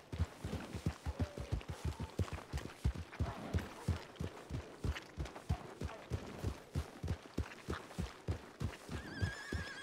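Horses in a western video game, with repeated whinnies and neighs over a steady run of hoofbeats, loud and close for the whole stretch, with no talk.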